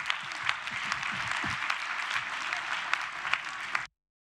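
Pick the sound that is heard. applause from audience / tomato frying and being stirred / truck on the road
applause from audience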